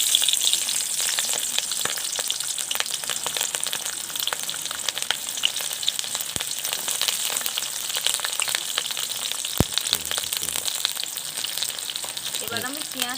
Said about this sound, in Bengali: তার জন্য প্রথমে আমি তেলে পেঁয়াজটা দিয়ে দিচ্ছি